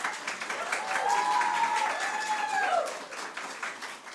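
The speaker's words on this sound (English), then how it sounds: "I would like you to give Shivani an extra round of applause as she is receiving her" A graduation ceremony audience applauds a BCom graduate receiving a cum laude degree, with dense steady clapping that fades slightly toward the end and a faint tonal whistle-like sound riding over it.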